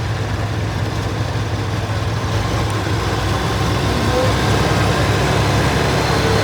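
A 1971 Massey Ferguson 165 tractor with a Perkins diesel engine rumbles steadily nearby at a parade show, a continuous low engine drone with broadband outdoor noise and no clear pauses.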